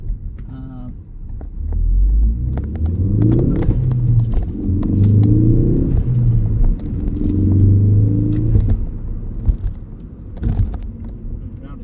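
A Ford Focus ST-3 with a 2.0 EcoBoost engine rolls round a motorway-junction roundabout in third gear. Its engine rumbles and rises and falls in pitch with load under steady road noise, and a driver talks over it.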